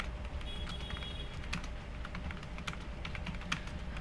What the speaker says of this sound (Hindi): स्टेप 2 में हमें कोड टाइप करना पड़ता है।